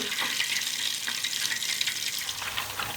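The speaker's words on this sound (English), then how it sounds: "This is the bubble I was talking about. When I get this bubble, I know my ghee is done." Homemade ghee bubbles and sizzles in a pan on the stove, a dense crackling fizz with scattered pops, close and fairly loud, no voices.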